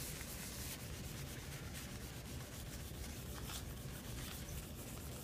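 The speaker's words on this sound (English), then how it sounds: "take a paper towel and polish it up" A paper towel rubs brown paint in circular motions over a faux metal picture frame, a steady close scrubbing with no talk.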